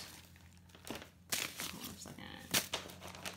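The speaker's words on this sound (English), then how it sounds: "I realized it's in this plastic bag right here" A plastic bag holding garden seed packets crinkles and crackles in a few short bursts while being handled, fairly faint, with quiet room background.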